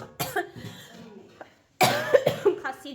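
A person nearby coughs in two harsh bouts: a short cough, a pause, then a longer, heavier fit of coughing.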